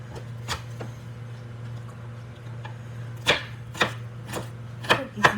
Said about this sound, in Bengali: কমেন্ট লিখে জানিও তোমরা কারা কারা এইভাবে রসুন কাটো।